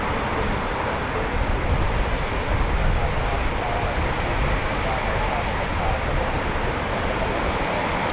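Military transport aircraft flying overhead during a royal ceremonial flypast, a loud, steady, broad engine roar that holds evenly throughout, with crowd or commentary sound blended underneath.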